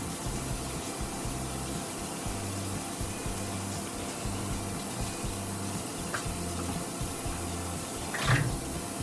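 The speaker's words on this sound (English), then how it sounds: "I have the sink filling up." Tap water runs steadily into a kitchen sink as it fills, holding tilapia fillets, a continuous close rushing flow with a low rhythmic hum underneath and a brief splash near the end.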